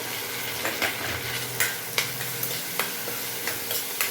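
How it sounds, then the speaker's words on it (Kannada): Peas tip into hot tempering in a pan and fry with a steady sizzle, while a spoon scrapes and stirs in regular clacks throughout. "ಬಟಾಣಿ ಹಾಕ್ತಾ ಇದ್ದೀನಿ ಒಗ್ಗರಣೆ ಆಗಿದೆ ಬಟಾಣಿ ಹಾಕ್ತಾ ಇದ್ದೀನಿ"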